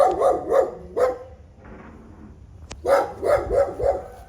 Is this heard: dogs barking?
yes